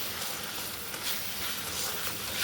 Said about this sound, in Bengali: মশলাটা বেশ ভালো করে কষে নিয়েছি।